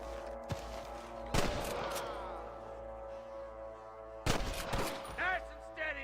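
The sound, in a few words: gunshots in the video game Red Dead Redemption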